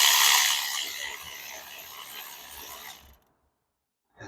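A cheap ratchet wrench clicks steadily while turning bolts during removal of a 2.0T FSI engine on a driveway, a fast rasping close-up ratcheting that stops, then resumes briefly after a pause.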